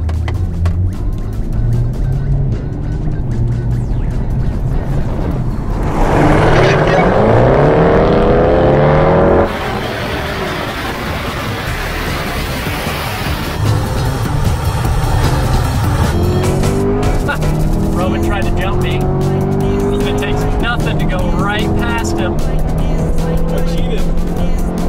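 C5 and C8 Chevrolet Corvettes accelerating flat out from a 30 mph roll race, engines roaring and climbing through gear shifts, loud and close, with bursts of rising pitch and wind rush, and people talking over parts of it.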